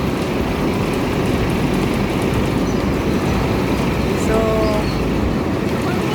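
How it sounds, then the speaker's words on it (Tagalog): Steady low rumble of MRT trains passing one after another fills the scene, loud and continuous, with a brief squealing tone near the end. "Nagsunod-sunod ang MRT, oh."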